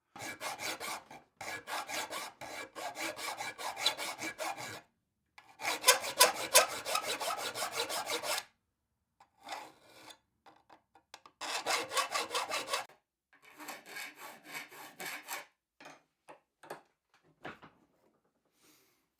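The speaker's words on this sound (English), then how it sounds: "I need to get back to filing here." Metal file rasping across the teeth of a handmade Viking-style saw blade, in steady rapid back-and-forth bursts of several seconds each, separated by short pauses, close and loud with no talking.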